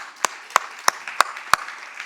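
Five evenly spaced claps ring out in a church worship service, sharp and fairly close against a quiet room, as the congregation is called to applaud a blessing.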